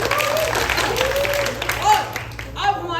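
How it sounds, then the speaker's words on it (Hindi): A theatre audience at a multilingual society's stage production applauds a finalist family, a dense wash of clapping sustained throughout with a voice speaking over it near the end. "अरे तालियां"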